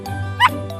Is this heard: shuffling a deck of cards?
no